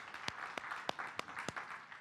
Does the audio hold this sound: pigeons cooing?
no